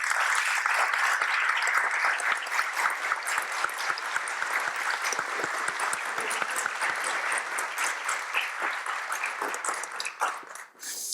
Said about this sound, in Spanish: Por favor, un aplauso para una leyenda de la televisión colombiana.